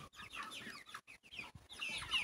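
Broiler chicks cluck in a coop, a quick run of close, chattering peeps and clucks in short bursts with brief gaps between them.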